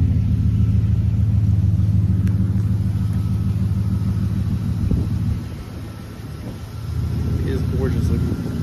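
A 2010 Ford F-150 engine idles just after starting, a loud, steady low rumble that dips briefly partway through before returning, with some wind buffeting the microphone.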